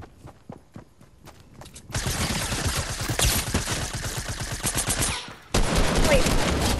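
Rapid automatic gunfire from Fortnite, with close, loud bursts of quick repeated shots. Two long sustained volleys follow a few footstep-like taps.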